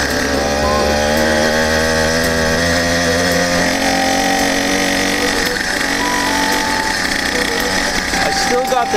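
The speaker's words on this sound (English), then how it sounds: "let's get this engine warmed up" A 100cc iron-sleeve engine on a motorized bicycle runs loud and close, a steady buzzing drone with a revving, chainsaw-like whine that holds throughout without pause.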